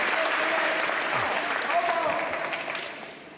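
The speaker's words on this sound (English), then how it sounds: "Look at the crowd go wild." A pool crowd at the 2017 World Pool Masters final applauds and cheers, a dense burst of clapping that gradually tapers off toward the end.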